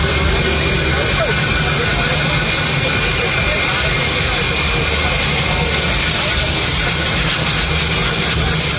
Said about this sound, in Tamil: டெல்லி இந்திரா காந்தி விமான நிலையத்திலிருந்து புறப்பட்ட இண்டிகோ விமானம் நொய்டாவில் தரையிறங்கியது.